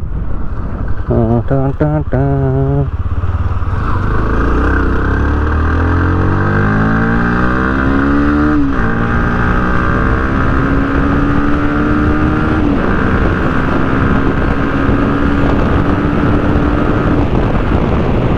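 A Bajaj Pulsar NS 160 motorcycle accelerates on the road, its engine note climbing through several gears with rising pitch and brief dips at each shift, loud and close with steady wind rush.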